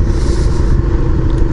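A used Suzuki SV650 naked motorcycle riding over gravel, its engine a steady, loud, close rumble that holds even throughout with no pauses.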